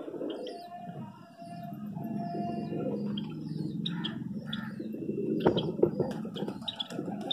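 Pigeons settle on a rooftop, giving soft, low, continuous cooing with a few chirps and light fluttering clatter, close by.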